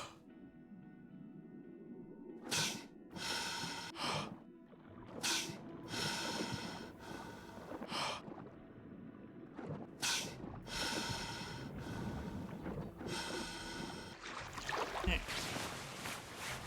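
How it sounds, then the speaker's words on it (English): Heavy, rhythmic breaths pulled through a snorkel, each rasping gasp coming in loud bursts about a second apart, close and raw over a continuous watery background rumble. "Frank snorkeling sounds like my 75-year-old dad climbing stairs"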